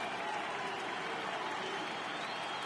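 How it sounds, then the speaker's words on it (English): Stadium crowd in the MLB 18 The Show baseball game, Pirates at the New York Mets in a playoff game, gives off a steady, distant roar of cheering and applause that holds level throughout. "The crowd is ready to erupt as their guys get set to take the field"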